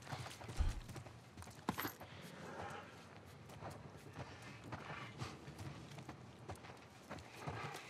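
Horse hooves from the video game The Last of Us, with soft scattered hoof clops and movement noises over a low ambient bed. The sound is fairly quiet and nearby.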